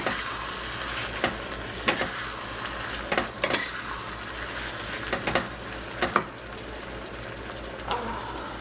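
Tomatoes go into a pan of nearly cooked onions, and a steady sizzle of frying runs throughout, broken by repeated sharp clinks and scrapes of a utensil stirring against the pan.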